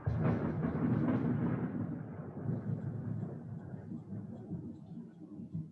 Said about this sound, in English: Ooh, lightning.